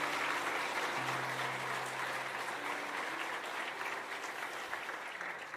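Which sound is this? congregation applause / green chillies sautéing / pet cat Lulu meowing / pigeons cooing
congregation applause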